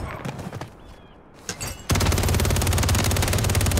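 In a Search & Destroy video game, a rapid burst of gunfire suddenly erupts and sprays on without a break, loud and dense after a brief quieter stretch with faint sounds.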